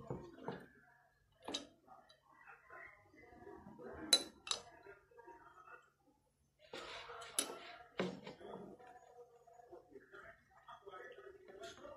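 A utensil scrapes and clinks against a bowl while homemade slime is stirred, giving irregular taps and soft sticky bursts with pauses between them, close and fairly quiet.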